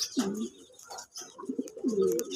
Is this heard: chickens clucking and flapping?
no